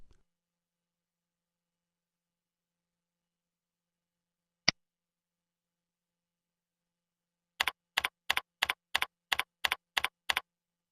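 Keystrokes on a computer keyboard while a password is entered: one isolated click, a pause, then a quick, even run of about ten crisp taps close by in an otherwise silent room.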